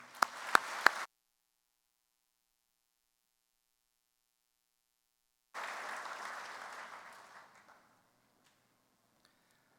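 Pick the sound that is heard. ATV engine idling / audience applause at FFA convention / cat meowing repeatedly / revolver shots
audience applause at FFA convention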